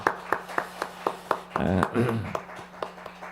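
A church congregation applauding during a Korean Sunday worship service, with a handful of separate sharp claps in a steady rhythm and a brief burst of voices in the middle.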